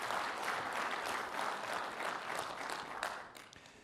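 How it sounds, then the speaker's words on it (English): A conference audience applauds after a business software demo, with dense, steady clapping from many hands at moderate distance that tapers off toward the end. "Let's give a big hand of applause."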